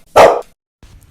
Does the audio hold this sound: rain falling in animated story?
no